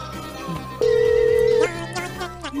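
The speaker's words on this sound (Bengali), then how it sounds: "কিন্তু এটাকে ফোনটা লাগাই।" A telephone rings once with a single steady electronic tone held for under a second, heard over quiet background music.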